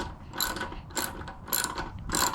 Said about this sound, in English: let's throw the nut on the rear axle and get that all buttoned up